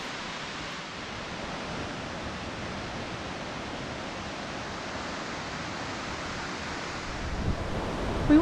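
Wallaman Falls, Australia's largest waterfall, gives a steady, broad rushing roar of falling water, constant and fairly distant, with no voices.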